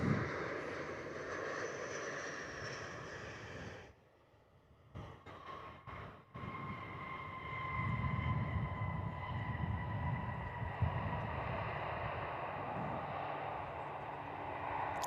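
A Boeing 737-800 arriving on runway 03 at Perth: a distant, continuous jet engine roar with a whining tone, briefly dipping before swelling into a low rumbling rush as it lands, heard without talk.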